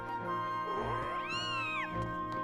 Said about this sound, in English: That is a cute kitty cat